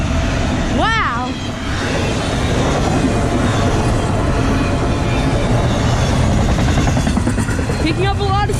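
A train roars past nearby through snow, a loud continuous rush with rumbling and some clatter. A horn-like warble sounds briefly near the start and again at the end.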